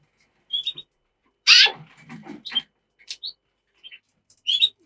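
Short, sharp calls and chirps from cock birds in scattered bursts, close and clear against quiet, with a louder squawk near the start.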